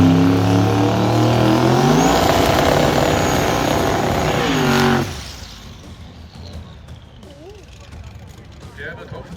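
A twin-turbo drag racing car with Swedish plates, at a German drag race. A loud, close engine roar climbs in pitch for about five seconds, then cuts off sharply and leaves fainter distant engine noise, with talking over it.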